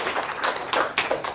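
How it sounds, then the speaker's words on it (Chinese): Brief, loose classroom clapping in a programming lesson, a few uneven rounds of hand claps from a small group of students, lasting only a moment with no talk over it. "这样我们给他掌声鼓励"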